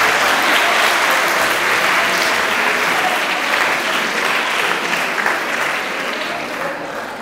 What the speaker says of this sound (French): vous pouvez applaudir Élise Poisson